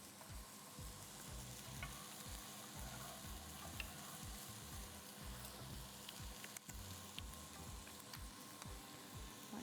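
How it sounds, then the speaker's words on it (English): A pan of stock for mushroom risotto bubbling and sizzling on the stove, a dense steady simmer with rhythmic scraping of a spoon stirring through it. "I'm just going to give our stock a bit of stir"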